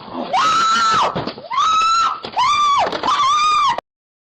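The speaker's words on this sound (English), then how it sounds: "Lots of screaming." Several high-pitched screams in four separate bursts, each rising, holding and falling away, loud and close, with brief gaps between them before sudden silence.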